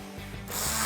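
A ratchet turns a 10mm bolt at the front of a truck headlight, giving a short, close run of quick clicking pawl ticks with a brief rubbing grind.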